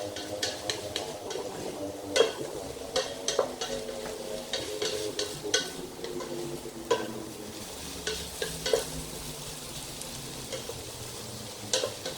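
Sweet potato enchilada filling fries in a hot pan under a low, continuous sizzle, with frequent sharp clicks and scrapes of a utensil stirring against the pan, close up, and no talking.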